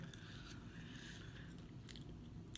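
M&M chocolate candies are crunched and chewed close up, with a quiet, steady run of small biting crunches and no talking.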